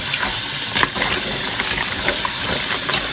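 Water splashes and gushes steadily into a pot holding about ten dried Guajillo chiles for Mexican enchiladas, a continuous bright pouring noise with a few small sloshes.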